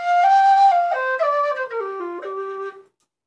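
A tin whistle in F, an Irish whistle, plays a short descending run of clear, bright notes, solo and close, ending after about three seconds.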